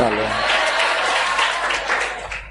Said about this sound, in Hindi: तालियां भी यार कुछ बजा रहे